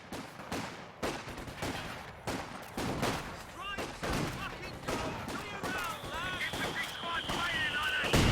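Artillery-style blasts and scattered gunfire from Company of Heroes 2 mortar pits in a 2v2 match, irregular heavy thumps throughout, with a high whistling tone entering in the latter half.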